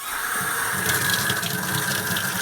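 Hot tap water runs steadily into a Bissell carpet cleaner tank, a continuous close gushing splash with a rising hollow tone.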